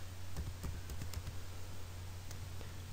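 Someone types a domain name on a computer keyboard, a quiet, irregular run of soft key clicks over a low steady electrical hum, with no voices.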